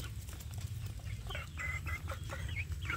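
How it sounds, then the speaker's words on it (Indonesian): Free-range Indonesian village chickens (ayam kampung), young birds among roosters and hens, clucking and cheeping in short repeated calls, fairly quiet over a steady low background hum, with no one speaking. "ini anak ayam kampung saya ini di umbaran saya beri makan nasi sisa"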